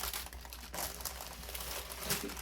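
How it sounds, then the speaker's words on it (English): Parchment paper crinkling as a cooled baked cake is lifted from its pan, a quiet, close, irregular rustling and crackling that continues throughout. "Use the parchment paper to remove it"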